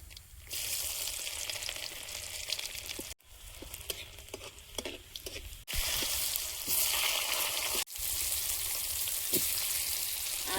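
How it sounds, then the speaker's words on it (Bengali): Dry red chilli, black cumin and garlic sizzle in hot oil, making a dense continuous crackle that is broken by a few brief pauses and faint stirring clicks, close up with no talking. "একটা শুকনো লঙ্কা হাফ করে দিয়ে দিচ্ছি আর দেবো কালো জিরে জিরে রসুন কোচা"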